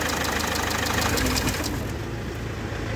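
Car engine idling steadily during an EGR valve test, a close, loud, continuous mechanical hum and clatter with no break.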